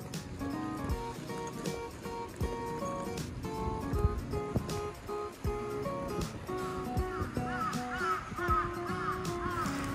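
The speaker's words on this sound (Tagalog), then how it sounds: "Yan lang po yung lagi namin naririnig dito, yung huni ng mga uwak." Crows caw repeatedly in Japan, harsh calls scattered over a busy outdoor background with a steady wash of ambient noise, moderately distant and fairly faint.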